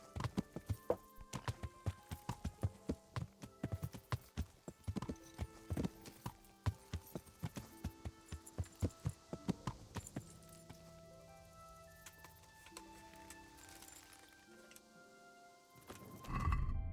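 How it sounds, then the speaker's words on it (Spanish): Horse hooves in Kingdom Come: Deliverance, a steady run of crisp clip-clop beats near and loud over a soft medieval music bed, slowing and fading out toward the end before a closing thump. "Si tu caballo está herido, galopa más rápido."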